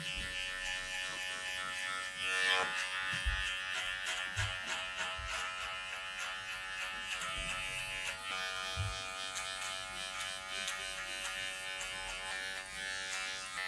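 Electric hair clippers giving a buzz cut hum with a steady, tonal buzz close by, with a few soft thumps and scraping passes as the blades move through the hair.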